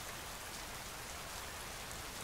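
A continuous wash of falling rain, drops pattering densely and evenly nearby in a constant hiss that never lets up, alone with no speech.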